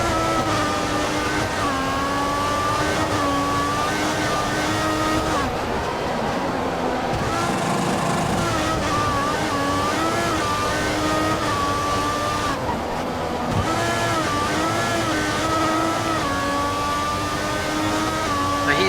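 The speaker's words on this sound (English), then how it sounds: "He's running full revs, maximum power." A Formula 1 race car engine in the F1 2014 video game screams at full revs during the Spanish round. Its high whine rises and dips with gear changes and continues without a break for the whole stretch.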